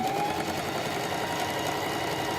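A sewing machine runs steadily, stitching a farmhouse-style fabric dish drying mat, with a continuous fast mechanical hum and faint knocking, close and alone with no talk.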